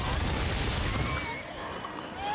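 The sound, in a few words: gunfire in the video game Dead Space 3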